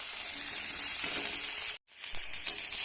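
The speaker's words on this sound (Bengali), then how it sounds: "বেগুনটা ভেজে তুলে নেব" Eggplant seasoned with turmeric frying in oil, giving a bright, steady crackling sizzle up close, broken by a brief cut to silence before the sizzle resumes.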